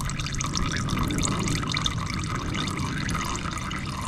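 Motor oil pours into a Honda Goldwing motorcycle engine during an oil change, a steady, close gurgling stream of liquid that runs unbroken throughout.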